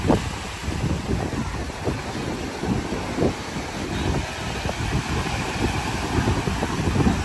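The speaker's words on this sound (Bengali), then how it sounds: "ঠান্ডা ঠান্ডা সমুদ্রের হাওয়া" Cool sea breeze on Mousuni Island buffets the microphone in a constant rough whoosh, with low rumbling gusts swelling and easing throughout and no voices.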